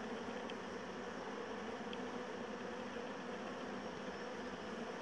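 Honeybees buzzing steadily around an opened beehive during an inspection, a dense, continuous droning hum with no pauses and no voices.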